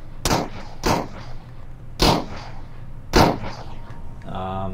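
Pistol and musket shots in the Final Fantasy XIV video game played in VR: four sharp, loud cracks spaced about a second apart, each with a short ringing tail, followed by a soft tonal chime.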